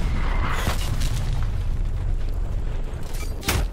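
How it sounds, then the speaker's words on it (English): Artillery explosions in Black Ops Cold War, a video game: a steady low rumble carries two sharper booming bursts, one near the start and one toward the end, with no voices. "Artillery targeting detected."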